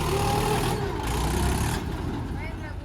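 A Mahindra tractor engine runs close by with a loud, steady diesel rumble that holds for about three seconds, with voices faintly mixed in.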